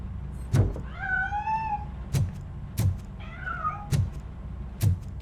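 A cat in the video game RoboCop: Rogue City meows twice, with rising and falling cries, between sharp loud knocks and bumps as it escapes.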